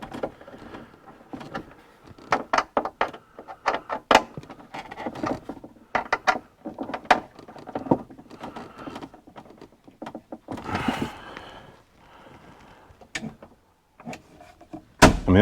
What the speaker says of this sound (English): Let's just tighten it by hand now.